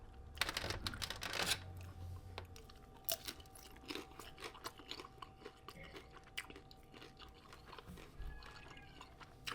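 Close, crisp crunching and chewing of spicy soy hot chicken, with repeated bites and mouth sounds over a few seconds and no talk.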